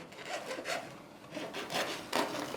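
Knife sawing through a ciabatta-style whole wheat loaf, a series of close, raspy back-and-forth strokes across the crust, quiet and rhythmic.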